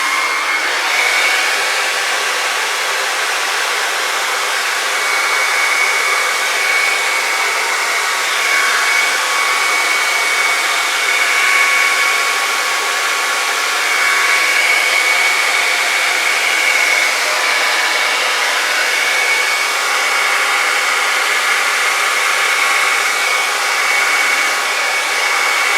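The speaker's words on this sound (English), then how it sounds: "I had holes here that were keeping my blow dryer from working really well. And I'm going to put this on the cool setting." A blow dryer on its cool setting blowing steadily across poured fluid acrylic paint, a loud continuous rushing whoosh with a faint whine, unbroken for the whole stretch.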